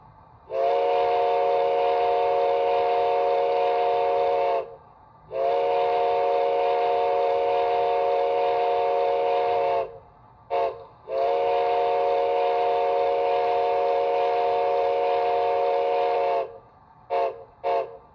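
A loud, steady Reading six-chime steam whistle from an HO scale Bachmann model locomotive's sound system blows in long sustained blasts with brief gaps, ending in a couple of short toots.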